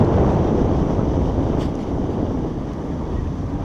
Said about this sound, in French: Et il y a un vent, ouais. Le vent plus la vitesse.